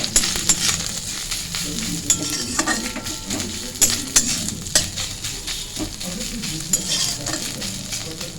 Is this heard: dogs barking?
no